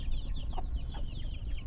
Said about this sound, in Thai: ทุกคนมีแต่ไก่น้อยแบบนี้ค่ะ